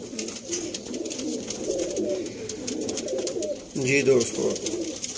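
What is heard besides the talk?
pigeons cooing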